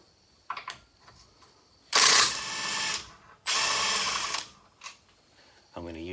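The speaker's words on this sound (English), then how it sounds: "we'll do a little machining on one of the metal flanges using a die grinder to make it fit the new shock" Die grinder machining a metal flange on a Toyota 4Runner shock mount to fit a wider stanchion, with two loud sustained high-pitched grinding bursts of about a second each, separated by quieter handling noises.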